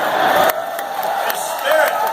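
Rowdy crowd at a Donald Trump political rally in New Hampshire, cheering and shouting loudly throughout, with a brief dip in the middle before the roar swells again.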